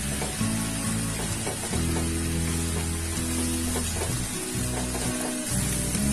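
Khoa being stirred into a bottle gourd laddu mixture in ghee in a pan, giving a steady soft sizzle with scraping stirring strokes throughout, no talking.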